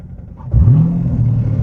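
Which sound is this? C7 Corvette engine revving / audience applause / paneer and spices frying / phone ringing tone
C7 Corvette engine revving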